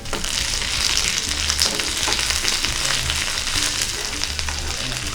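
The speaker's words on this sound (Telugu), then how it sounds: "ఇప్పుడు మనం కరివేపాకు వేసుకుందాము." Curry leaves dropped into hot oil with browning onions, a steady loud sizzle and crackle of frying that continues throughout with no talking.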